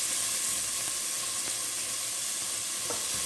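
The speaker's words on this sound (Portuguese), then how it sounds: "e vamos dar uma refogada" Onion sautéing in melted butter in a pan for a saffron risotto gives a steady, even sizzle with faint crackles, close and alone without talk.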